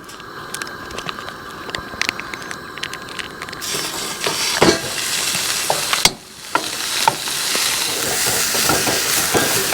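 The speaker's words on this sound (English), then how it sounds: "I'm going to cut open this beef and start frying it." Ground beef sizzles and crackles steadily in a hot pan at a campground, with occasional utensil scrapes and clicks over the continuous frying hiss.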